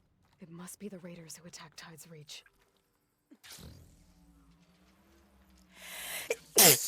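A single sharp, loud sneeze bursts out right at the end, following a stretch of game dialogue and a quieter, breathy lead-in.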